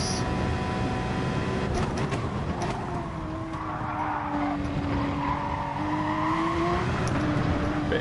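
A Porsche 911 RSR race car in GT Sport runs through a bit of gravel, with a steady loud engine drone, a rising and falling tonal whine, and scattered gritty scraping.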